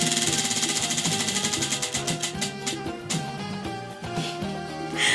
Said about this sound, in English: they're forcing me to spin the wheel again for the third time